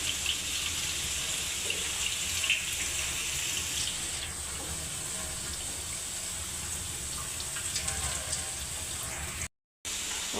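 Tap water runs steadily under chillies being washed in a sink, a continuous close splashing rush lasting about ten seconds with a brief cut near the end.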